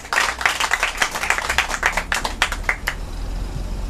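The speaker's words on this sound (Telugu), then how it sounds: "సంతోషంగా చప్పట్లు కొట్టి దేవుని మహిమపడతాం" A church congregation at a fasting service in Vemavaramu claps hands together in a steady, rhythmic beat for about four seconds, with close, crisp claps and no talking.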